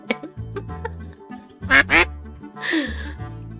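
A duck in the video game Pre-Odyssey lets out several quacks, a pair of loud close ones in quick succession and then a drawn-out call, over a soft game soundtrack of low synth notes.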